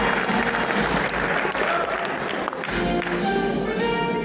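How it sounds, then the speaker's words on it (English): An audience breaks into sustained applause, a dense, steady wash of clapping from many hands that fills the room without letup, with a few faint voices mixed in. "Give him a hand."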